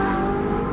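A Ferrari engine revs loud and close during a drift session, a brief steady roar with no voices over it.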